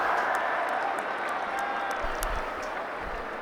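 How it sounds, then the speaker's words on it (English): Cricket crowd at a Pakistan vs England Test match applauding a long chase by a fielder, a steady wash of distant clapping and murmur spread across a big stadium, with faint commentary over the top. "applauded the chase from Potts"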